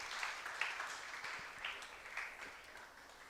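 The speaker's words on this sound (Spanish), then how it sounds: "Dale un aplauso al Señor." Church congregation applauding the Lord during a sermon on gratitude, producing a fairly quiet, continuous patter of many clapping hands with slight rhythmic surges that thins out toward the end.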